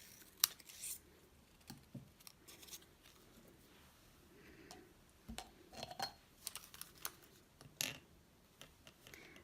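Scissors snip through a scrap of Sahara Sand cardstock in a quiet craft setting, with soft, close, irregular cuts and small ticks and rustles of paper between them.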